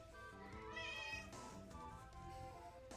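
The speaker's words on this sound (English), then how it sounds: "He just meows all the time." A pet cat meows over and over, drawn-out whining cries coming close and loud one after another with hardly a pause for the full stretch.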